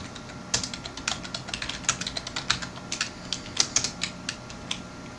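Rapid clicky keystrokes on a computer keyboard as code is typed, arriving in quick irregular runs with brief pauses, close and clear against a quiet room.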